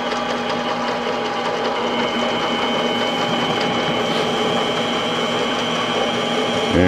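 A DIY universal tool cutter grinder with a 20mm spindle adapter cuts a notch, producing a loud, unbroken whirring and grinding drone that holds steady throughout.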